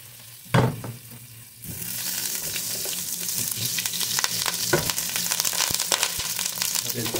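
After a quiet moment and a faint knock, butter goes into a hot casserole pan while cooking a shrimp and vegetable ginataang hipon, and a loud, continuous sizzle with crackling pops starts and holds to the end.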